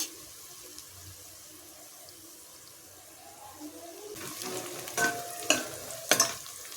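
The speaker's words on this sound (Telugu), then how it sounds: "ఆనియన్ వేగిన తర్వాత కొద్దిగా పసుపు వేద్దాము." Onions fry quietly in a pan with a soft sizzle, then turmeric goes in and a spoon scrapes and stirs, giving a few sharp clinks and louder bursts near the end.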